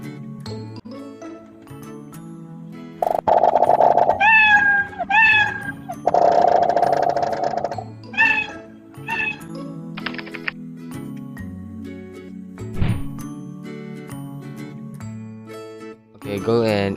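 Cat meow sound effect played repeatedly from Scratch on a computer, several short, loud, clear meows in succession against a background of electronic tones and keyboard clicks.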